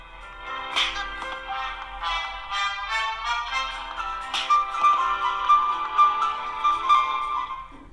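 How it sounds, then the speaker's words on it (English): Dual speakers on a Samsung Galaxy A52s play a test tune of bright, ringing tones and chiming melodic notes, loud and clear, with no talking. "So let me show the speakers on both phones. First on the Samsung, which has a dual speakers."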